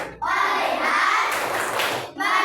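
Schoolchildren in an Indonesian classroom clap along with a rhythmic chant, their voices mixed with bright, patterned hand claps that run loud and close for about two seconds before a brief pause.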